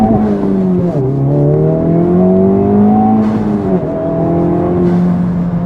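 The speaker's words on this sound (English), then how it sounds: "You can rev this car to like redline, I guess, if you are with the clutch in" Honda Civic Type-R with an AWE Touring exhaust revving with the clutch in, a steady loud engine drone that climbs and dips in pitch, holding a meaty tone throughout with no talk.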